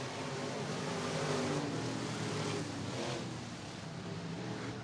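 Race cars on the back straightaway of a short oval track at Pine Ridge, engines droning and roaring at a distance, fairly faint, swelling slightly as cars pass, with no voices over them.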